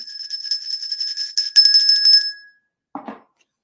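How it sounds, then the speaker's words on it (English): A bright, ringing bell effect rings out in quick repeated strikes for about two seconds, then a short softer chime follows after a pause. "And hit that notification bell."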